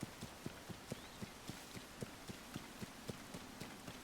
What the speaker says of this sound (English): We got horse.